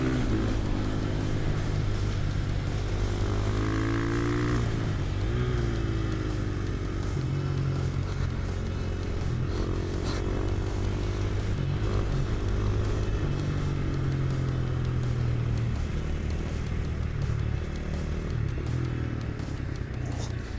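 A supermoto motorcycle races around a track, its engine droning loud and close with rising and falling pitch through gear changes and throttle shifts, never letting up for the whole stretch.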